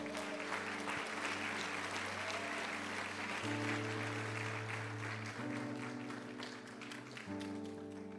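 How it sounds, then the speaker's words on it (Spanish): Congregation applause during a church service, sustained clapping from a crowd over sustained keyboard or organ chords. "Un aplauso para ellos,"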